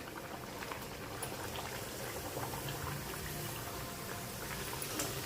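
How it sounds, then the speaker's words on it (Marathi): Puris deep frying in hot oil in a home kitchen, a dense, steady bubbling crackle of oil that holds even and close throughout with no talking. "आपल्याला ह्यामध्ये किती पुऱ्या राहतील त्याप्रमाणे ह्या पुऱ्या आपण सोडून घेऊया."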